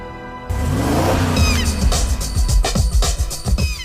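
Bentley Arnage Red Label car engine surging loudly after a quiet start, revs climbing and falling through gear changes, close and powerful.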